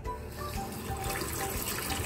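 Running water splashing as dried ingredients such as dates and chestnuts are washed in a sink, a short steady close-up gush of liquid with no talking.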